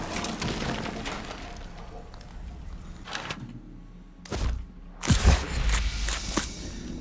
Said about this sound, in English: Oh, I'm gonna be digging in the concrete.